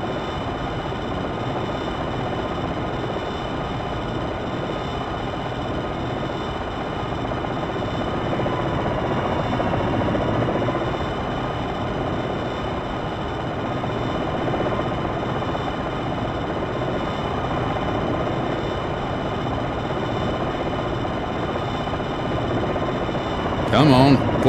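An Apache Longbow helicopter in the Jane's Longbow 2 simulation holds a steady hover, its rotor and engine drone droning evenly and loudly throughout with no break.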